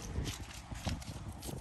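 Hooves of a big horse being ridden clop steadily in an even walking rhythm over constant outdoor background noise, fairly faint and fairly distant.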